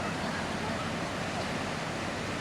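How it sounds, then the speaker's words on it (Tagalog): Strong ocean waves at Liwliwa Beach in San Felipe, Zambales, make a steady, dense roar of surf. "Grabing alon talaga to."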